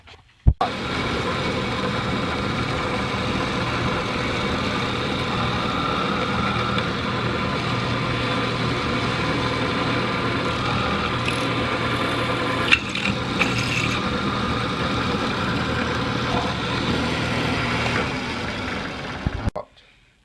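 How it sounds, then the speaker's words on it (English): A drill runs in one long steady whine while boring a centered hole in a Ruger P95 pistol magazine, close and continuous for about twenty seconds before stopping. "we're going to drill the very center of that"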